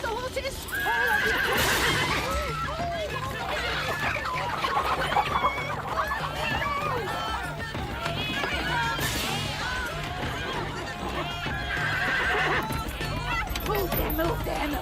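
Horses whinny and neigh amid a commotion, with clucking chickens, hoof clip-clop and people shouting throughout a busy farmyard scene in a television drama.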